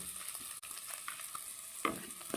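Ginger garlic paste frying in oil over a medium flame for a chicken vegetable bun filling, a quiet, close sizzle with a few soft stirring touches and one brief louder scrape near the end.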